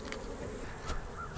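A faint, steady buzz of honeybees hums close by around a hive, with individual insects droning briefly louder as they pass.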